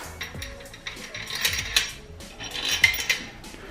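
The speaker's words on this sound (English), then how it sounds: "Stick my bolts in." Metal bolts clinking and rattling as they are set into a KA24DE engine block during assembly, a few close, bright metallic taps and scrapes.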